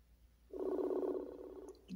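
A single buzzing ringback tone sounds for just over a second, moderately loud, followed by a short faint tone; no one speaks.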